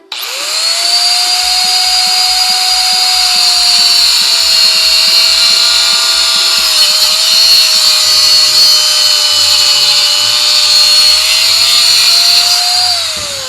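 A Saw Max cutoff tool runs with a loud, steady high-pitched whine as its cutoff blade cuts through material, the pitch dipping slightly under load and holding for the whole stretch, with no talking.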